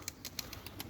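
An Iraqi play pigeon beats its wings in flight, a quick, even series of soft flapping bursts, close and faint.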